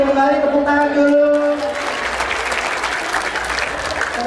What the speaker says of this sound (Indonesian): Boleh kembali tepuk tangan dulu.